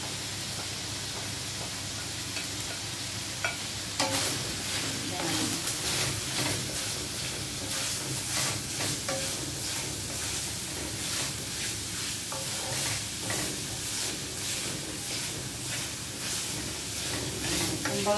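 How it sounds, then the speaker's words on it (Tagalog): String beans and garlic are sautéed in a pan for adobong sitaw, a steady hissing sizzle running throughout with repeated scraping stir strokes coming through, close and without talk. "ginigisa-gisa na natin siya sa bawang bago pa magmantika"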